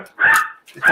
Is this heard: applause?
no